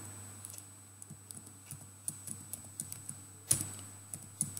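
Computer keyboard typing, a steady run of light clicks with a sharper keystroke near the middle, close and fairly quiet over a low steady hum with no talking.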